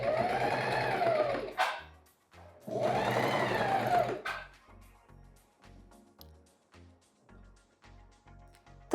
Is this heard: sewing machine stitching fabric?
yes